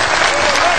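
A crowd at a kickboxing event claps together for the kickboxer Patrice, a dense burst of loud applause filling the whole brief moment.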